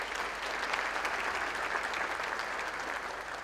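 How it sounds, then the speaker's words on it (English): Sustained applause from the crowd at a black-tie gala honouring Joe Anderson, even and continuous clapping heard at a moderate distance with no talk over it. "Let's give him a round of applause."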